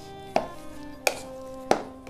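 Boiled, peeled potatoes are mashed in a bowl, with three sharp, evenly spaced knocks that ring briefly against a quiet background.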